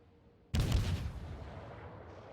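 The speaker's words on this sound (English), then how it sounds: "so far I'm not under fire, so I have no problems keeping my guns firing here" A warship's main guns fire in World of Warships, a single sharp, loud boom that rolls off into a long rumbling decay.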